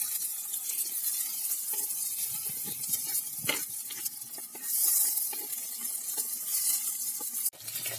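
Onions sautéing in a pan for a spicy masala, a faint, even sizzle with light scraping and stirring taps throughout, fairly quiet and without speech.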